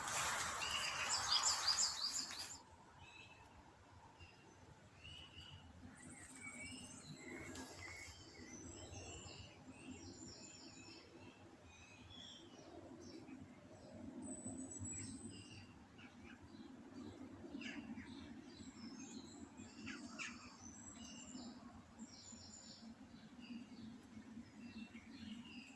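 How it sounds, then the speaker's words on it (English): Birds chirp and sing faintly outdoors in a quiet natural setting, scattered calls repeating over a soft background hum after a brief louder noise at the start. "Just sit and listen for a moment to the birds and see what you notice."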